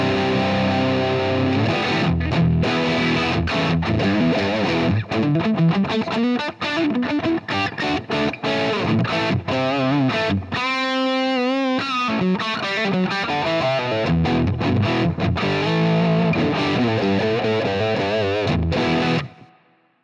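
Gibson Explorer electric guitar played through a cranked GCM 800 amp with a Solo tower, heavily distorted, ringing chords and choppy riffs with a brief sustained bending passage, loud and close, ending abruptly, no talking.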